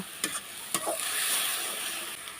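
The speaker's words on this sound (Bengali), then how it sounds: "দিয়ে দিলাম স্বাদ মতো লবণ, শুকনো মরিচের গুঁড়া, হলুদের গুঁড়া, জিরের গুঁড়া, সবগুলো আমি ভালোভাবে এখন মিক্সড করে নেব।" Mutton frying in a pan in a village kitchen as salt, dried chili powder, turmeric and cumin are stirred in, a steady soft sizzle with two sharp scraping clinks of the spoon early on.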